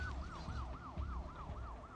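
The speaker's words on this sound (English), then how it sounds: "oh, there's a police car there" A police car siren in the PS1 game Grand Theft Auto, a steady rising-and-falling wail repeating about every quarter second over a low rumble of game engine noise.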